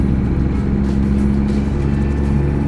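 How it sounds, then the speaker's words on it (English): A steady, droning engine rumble of a big rig truck cruising in American Truck Simulator, with a constant low hum and no voices. "driving a big rig here"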